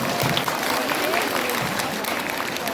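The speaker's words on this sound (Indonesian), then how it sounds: "Tepuk tangan kagem Bunda Nini." A crowd at a Hong Kong sholawat religious gathering applauds for the host of a study circle, a thick and continuous patter of many hands at steady strength throughout.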